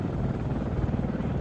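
An AH-64D Apache helicopter in ARMA 3 drones with a steady, loud rotor thump and dense engine roar that holds constant throughout, with no talk over it.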